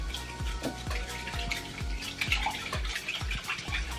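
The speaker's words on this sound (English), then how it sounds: "I'm just gonna mix it up good now." Slime being stirred with borax solution in a bowl, giving repeated wet squelching and slapping strokes in a steady rhythm, close and fairly loud with no talking.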